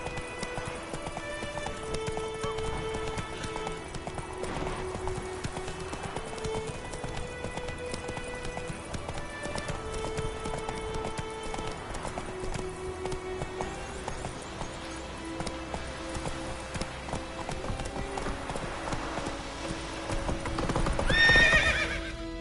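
In The Witcher 3, a horse gallops with steady rhythmic hoofbeats and a loud whinny near the end, set against music with a faint voice.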